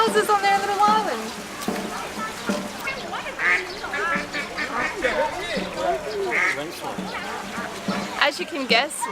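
Ducks quack around a small duck island with little duck houses on a lake, several calls near and mid-distance under steady talk and pattering like rain.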